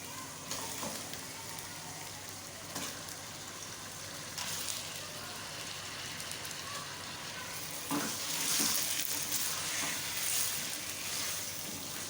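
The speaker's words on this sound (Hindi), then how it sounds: "चिकन के साथ अच्छी तरह से भुनाई कर लें" Chicken fries in a pan with chilies and cloves, giving a steady crackling sizzle. Occasional scrapes and stirring clatter rise out of the hiss, nearby and without speech.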